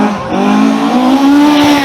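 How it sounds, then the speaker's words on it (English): A much-modified Ford Anglia drifts through a tight corner at a circuit, its tyres squealing loudly over a steady, rising engine note, close by. "Here comes a Ford Anglia, much modified."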